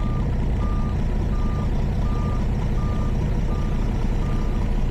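A truck reversing with its trailer sounds a regular series of backup beeps, evenly spaced and steady, over a loud continuous engine rumble, with no talk.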